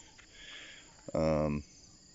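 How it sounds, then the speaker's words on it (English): A brief, close bee buzz passing near, lasting about half a second over faint background hiss, at an old farmhouse in Pranburi, Thailand. "And we do have bees here. They're very interested in me."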